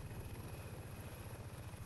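A helicopter in the StarForge video game gives off a steady, close, thudding rotor drone with an even rapid pulse and no talk over it.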